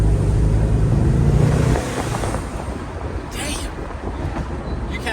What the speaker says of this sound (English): you can hear the turbos just spool up